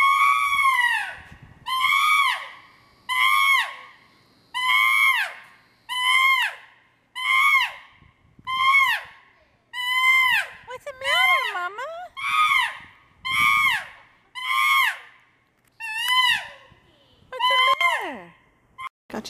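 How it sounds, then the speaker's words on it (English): Chimpanzees screaming in an outdoor yard at San Francisco Zoo: a long series of loud, shrill, rising-and-falling screams in rapid repeated bursts, close and dominant, with brief pauses between calls. "Minnie is the one that screams the most."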